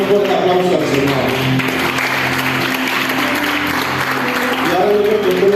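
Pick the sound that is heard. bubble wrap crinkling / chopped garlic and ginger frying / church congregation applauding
church congregation applauding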